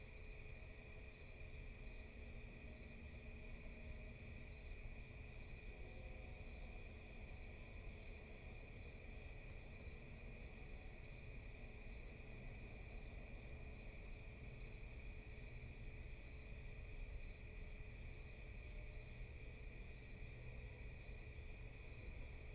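Nighttime cricket chorus as ambient background, a faint, continuous high-pitched chirring that stays even and unbroken for the whole stretch with no voices present.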